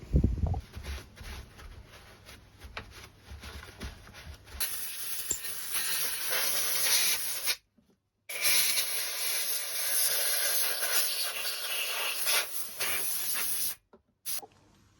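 Carburetor cleaner sprayed from an aerosol can onto McCulloch chainsaw parts: a loud, steady, close hiss that runs for many seconds, broken by two brief gaps near the end.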